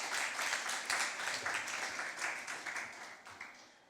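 A round of applause from the audience at a secondary school impromptu speaking competition, steady dense clapping that fades gradually toward the end, moderately distant in a hall.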